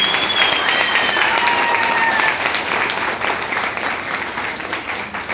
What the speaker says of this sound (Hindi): महागुरु के लिए जोर से ताली बजाइए।